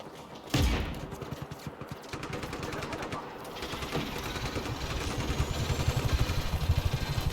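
Bursts of automatic gunfire from Black Hand soldiers in a video game, a sharp loud volley at the start followed by steady, rapid rattling shots that continue throughout.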